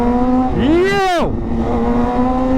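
An Audi RS6 driving past, its engine note sweeping up and then dropping sharply in a single loud, close pass over a steady background drone.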